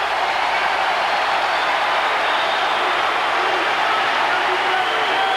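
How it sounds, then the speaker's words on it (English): Loud, sustained roar of a basketball arena crowd cheering during a tight late-game moment of a 1989 college tournament final, a dense continuous wash of noise with no clear breaks. "Listen to the crowd."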